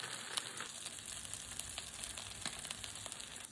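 Fish frying skin side down in a hot pan, a steady crackling sizzle with scattered sharp pops, close and moderately quiet, with no voices.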